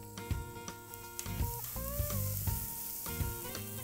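A steak sizzles steadily over a Breeo wood fire, with close crackling hiss and occasional sharp pops and metallic scrapes throughout.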